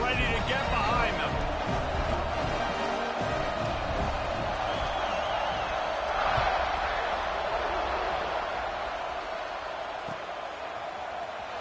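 A large football stadium crowd roars steadily at kickoff, a dense, continuous wall of cheering that swells slightly midway, heard under a play-by-play announcer's voice.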